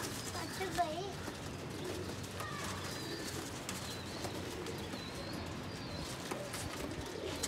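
Pigeons at a Lahore pigeon seller's, including a young bird, cooing softly in repeated low calls under steady background noise and someone talking.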